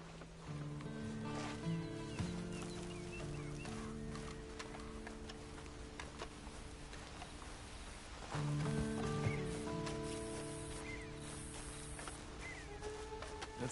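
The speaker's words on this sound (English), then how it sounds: "Then you better get on this horse." A horse in the Red Dead Redemption 2 game clip-clops along at a walking pace, hooves ticking steadily under a sustained musical score, with a brief snort or whinny-like sound near the start.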